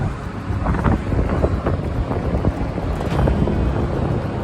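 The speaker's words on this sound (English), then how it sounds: "the wind don't want to cooperate" Wind buffets an outdoor microphone with heavy, gusty low rumbling and irregular thumps. The noise is loud and continuous, with no talk.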